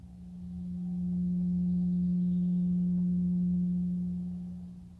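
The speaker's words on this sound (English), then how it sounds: "let's listen to what the 180 total degrees contained in a triangle sound like." A steady pure 180 Hz tone, matching a triangle's 180 degrees taken as cycles per second, hums alone and fades in and out smoothly over a few seconds.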